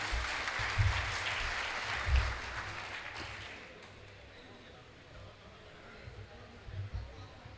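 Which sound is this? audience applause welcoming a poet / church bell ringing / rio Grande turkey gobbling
audience applause welcoming a poet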